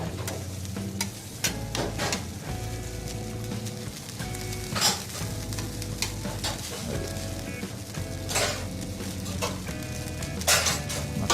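Masala upma being mixed and spread across a sizzling dosa on a street-food griddle, a continuous fry hiss punctuated by scraping and clattering spatula strikes, with a musical backing.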